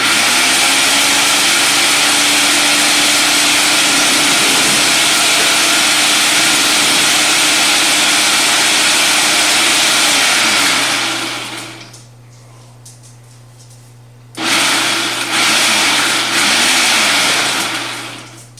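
A countertop blender chopping peppers runs loud and steady with a whirring motor drone, cuts out briefly partway through, then starts up again before stopping.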